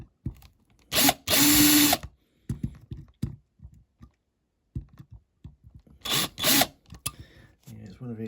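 A power drill boring out a rivet on a Dinky Toys Ford Transit van model, two loud, close bursts of whirring metal drilling, each about a second long, separated by quiet handling clicks and taps.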